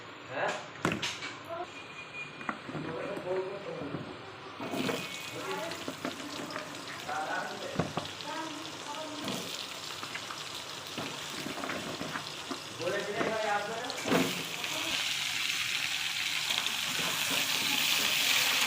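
Potato stems sizzle as they fry in hot oil with onions and tomatoes, with occasional stirring and a burst of running water. Someone talks over the cooking, and the frying grows louder toward the end.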